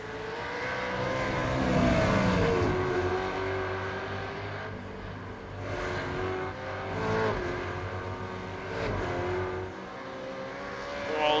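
V8 Supercars race at Bathurst in the iRacing sim, their engines roaring and revving steadily as several cars pull through gears, with a continuous loud drone and no voices.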